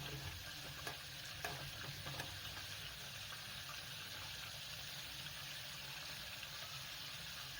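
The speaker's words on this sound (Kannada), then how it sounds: "ಕುದ್ದು ಕುದ್ದು ಅದು ಬೆಣ್ಣೆ ಹೋಗಿ ತುಪ್ಪ ಆಗಬೇಕು" Butter bubbles and boils steadily in a pan on the stove as it turns into ghee, a constant soft sizzling hiss with a few faint pops, close and quiet.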